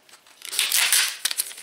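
A sweets package being unwrapped by hand, a close, bright crinkling and tearing of wrapper that builds to a loud burst and then trails off in a few sharp crackles.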